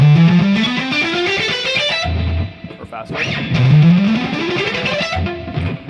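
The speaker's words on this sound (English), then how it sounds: "So here would be an example of scale run, which is using alternate, just straight up the scale." Distorted electric guitar plays a scale run with alternate picking, a steady climbing line of evenly picked notes, loud and close. It is played twice, the second pass faster, with a brief spoken remark between.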